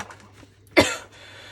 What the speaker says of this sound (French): ça doit être une horreur pour vous de m'entendre tousser.